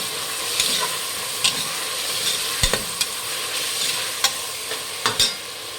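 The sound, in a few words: tomatoes frying in a pan for rice bath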